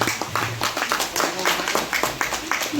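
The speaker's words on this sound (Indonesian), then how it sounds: "Tepuk tangan ini gitu." Audience applause at an Islamic community gathering in Indonesia celebrating the Prophet's birthday and National Santri Day, with steady scattered clapping filling the whole moment at moderate volume.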